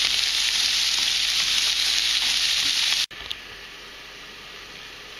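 Potatoes, carrots, green peppers and onions stir-frying in a pan with a loud, close, continuous sizzle that cuts out briefly midway, then resumes somewhat quieter.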